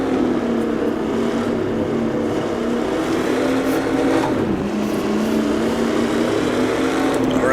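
A 1960s-style Formula racing car in the Assetto Corsa video game drones steadily at a loud, close, continuous engine pitch, dipping briefly and then rising again as it coasts through a corner.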